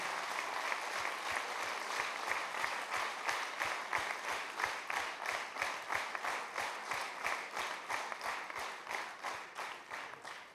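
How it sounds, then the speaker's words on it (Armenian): An audience applauds students at the end of a class recital concert, dense sustained clapping across the hall that settles into a rhythmic, unison beat toward the end. "Եկեք եւս մեկ անգամ ծափահարենք մեր սիրելի սաներին"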